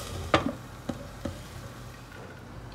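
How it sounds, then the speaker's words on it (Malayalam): A spoon stirring onions and curry leaves in a pan for egg masala, giving a few sharp scrapes and knocks over a soft, low sizzle, with no voices. "ഈ സമയത്ത് നമുക്ക് ഇച്ചിരി കറിവേപ്പില ചേർത്ത് കൊടുക്കാം. ഇനി നന്നായിട്ട് ഇളക്കാം."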